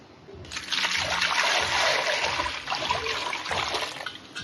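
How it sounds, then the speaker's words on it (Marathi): A burst of splashing water begins after a brief pause and continues steadily as peeled potatoes are dropped and swished in a water-filled bowl. "आता हे साल काढलेल्या बटाट्याला पाण्यामध्ये टाकायचं"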